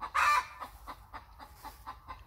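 A hen clucks after laying an egg, opening with one loud squawk followed by a steady series of softer, evenly spaced clucks nearby.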